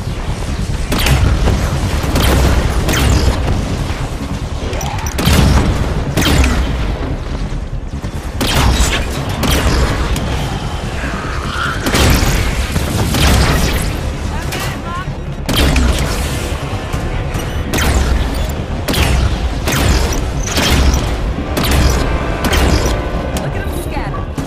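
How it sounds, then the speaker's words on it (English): Heavy turret fire in the Halo 5 campaign, loud repeated booming shots in dense bursts over a continuous roar of battle, with voices talking underneath at times. "I like this turret. It's good."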